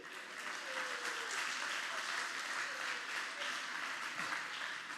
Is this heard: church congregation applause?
yes